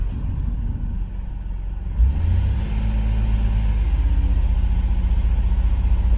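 The 3.8-litre engine of a 2000 Ford Windstar with a misfire and lean running, idling steadily with a low uneven rumble, then the revs rise and hold at a higher, slightly lumpy drone, close by with no talking.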